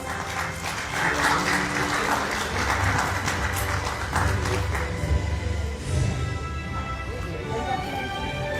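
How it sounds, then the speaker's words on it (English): An audience at a police closing ceremony for community policing and advanced law enforcement training claps steadily in a moderate, even wash, with voices talking underneath. "Please give him a round of applause."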